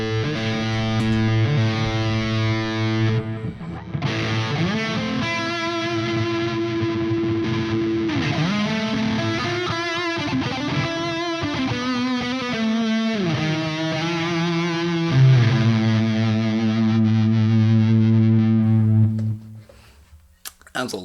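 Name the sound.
electric guitar through Sonicake Black Hammer distortion pedal, boost on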